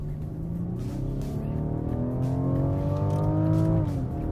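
A Rolls-Royce Wraith with its 6.6-liter V12 accelerating, a smooth, steady engine note climbing in pitch through the gear, loud and close, then dropping slightly near the end.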